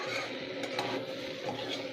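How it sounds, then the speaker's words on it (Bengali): Pumpkin and green chillies stirred in a pan, a steady scraping and rustling of a spoon against the pan with a faint sizzle underneath, continuous and close. "এবার আমরা নাড়াচাড়া করতে থাকি"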